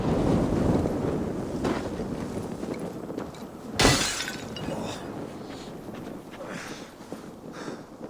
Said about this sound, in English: You've smashed all my jars.